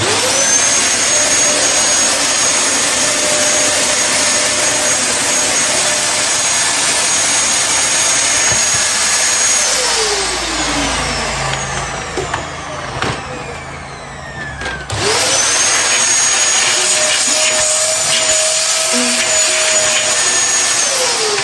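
A loud Dyson DC33 vacuum cleaner with a non-spinning brush bar drones steadily, its pitch dipping and the roar thinning midway before surging back to full power.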